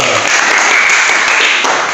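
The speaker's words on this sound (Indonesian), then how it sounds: "Tepuk tangan buat Cizona dulu." A group applauds for someone named Cizona after a closing prayer, loud and close, a dense, continuous burst of clapping that fills two seconds without letup.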